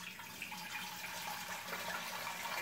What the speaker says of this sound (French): Ensuite, je vais remplir à moitié d'eau froide.